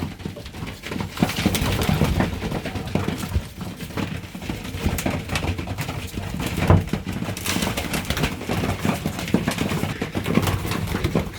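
Tame racing pigeons in a loft make continuous, fairly loud cooing and shuffling throughout, with no voices present.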